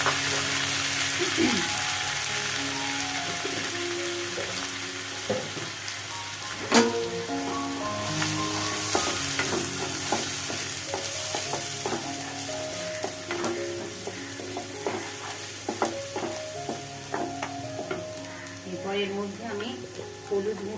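Spice paste sizzling and frying in hot oil with whole garam masala and a bay leaf, cooked for a fish-roe and masoor dal dish, with a steady crackle and intermittent stirring clinks and scrapes, close and continuous.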